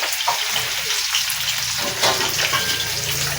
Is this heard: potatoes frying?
yes